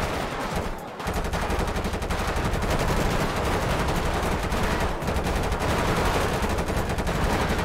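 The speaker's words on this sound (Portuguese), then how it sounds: "Ah, troca de tiro, moleque." Dense gunfire from a gang war in GTA V, rapid automatic bursts and shots blending into a continuous, loud barrage with a brief lull near the start, no talk.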